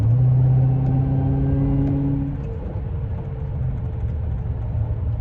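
Dodge Hellcat V8 engine running without audible supercharger whine: a loud, close, deep rumbling idle with a low steady drone that eases slightly partway through and continues alone.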